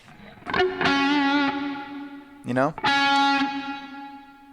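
An electric guitar with heavy distortion and Kemper natural reverb plays a tone: sustained distorted notes ring out with a long reverb tail, broken by a quick pitch bend in the middle, close and clear.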